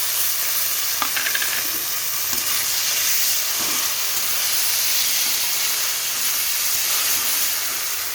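Fenugreek greens sizzling in a frying pan with browned brinjal: a steady, loud hiss of frying that holds throughout, with a few faint clinks of stirring near the start.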